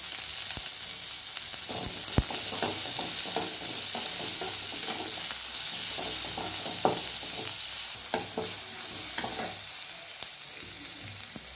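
Sliced onions with a little salt sauté in a hot pan over high flame for egg paneer fried rice, giving a steady crackling sizzle with occasional sharp clinks and stirring scrapes, close up and without speech.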